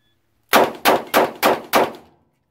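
Five loud shots from a Taurus 85 Ultra-Lite revolver, fired in a steady, evenly spaced string of sharp, ringing reports with no talking.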